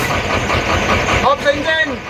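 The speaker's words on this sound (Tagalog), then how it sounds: "Start the engine." A Chenglong truck with a fault that keeps the engine from shutting off, its diesel engine cranking and catching into a steady near rumble, with a person speaking briefly over the running engine.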